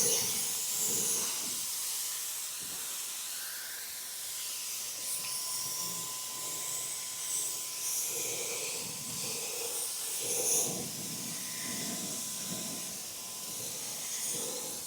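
A Wagner Flexio 5000 HVLP paint sprayer coats cabinet doors with a steady, fairly quiet hissing spray that swells and fades slightly over its length, with a faint hum under it and no clear talk.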